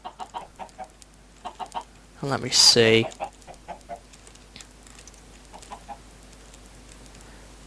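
Minecraft chickens cluck in short, soft bursts through the scene, with one louder, longer squawk near the middle, while someone talks briefly over them.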